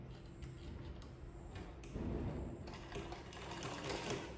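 A sewing machine stitches suit fabric in a quick, even mechanical rattle that grows slightly louder partway through, close and alone.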